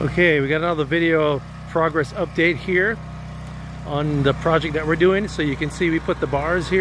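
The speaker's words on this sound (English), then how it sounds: "He's running the generator because we're still getting this up" A generator runs in the background at an off-grid solar installation, a steady low engine hum that stays under someone talking close to the microphone the whole time.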